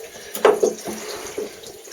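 Water drips from an opened pipe joint while a ball valve is changed, a few brief, close droplet splashes in an otherwise quiet space.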